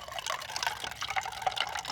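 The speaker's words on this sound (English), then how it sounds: "I'm gonna pour some water in it." Water pours into a disposable cup in a continuous, close splashing trickle with small fluctuating gurgles, and no voices over it.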